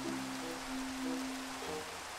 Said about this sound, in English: Oh, God, Flag, it's still raining.